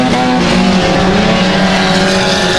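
Mini stock race cars roar past on a dirt oval at night, engines loud and close in a continuous droning howl with shifting pitch as the pack passes.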